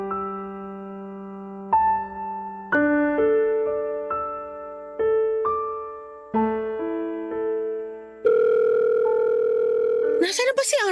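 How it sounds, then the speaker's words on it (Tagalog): Telephone keypad tones while dialing someone, a series of clear steady beeps in an uneven rhythm with a final longer tone, followed by a short burst of noise. "Sana naman sagutin na niya tawag ko."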